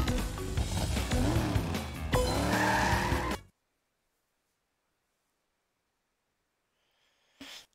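Karts race in Crash Team Racing Nitro-Fueled on Nintendo Switch, with loud engine roars and tire squeals over game music for about three seconds before the sound cuts to silence and returns briefly at the end.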